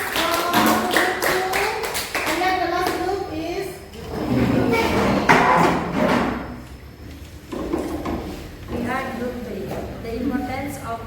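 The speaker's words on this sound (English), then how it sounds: "give applause for group 2" A classroom of students applauds a group, with dense, continuous clapping and voices mixed in at a steady, moderately loud level.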